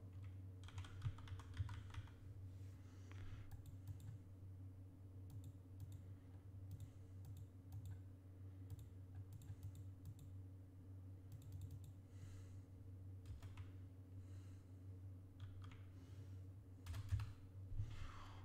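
Typing on a computer keyboard during a Warface game stream: steady, fairly quiet clicking keystrokes in irregular bursts with brief pauses, over a constant low hum, with no voices.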